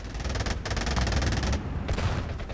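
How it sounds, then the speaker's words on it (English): Sustained automatic gunfire and mortar fire from the Korean War video game Theatre of War 3: Korea, a dense, loud, continuous rattle of rapid shots with heavy low booms underneath and brief gaps between bursts. "The mortars are giving full fire."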